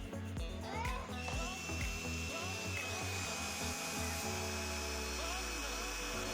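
A cordless impact drill, a budget model resembling a DeWalt, runs steadily with its chuck spinning, giving a continuous motor whine. Brief bumps and handling knocks come early in the run.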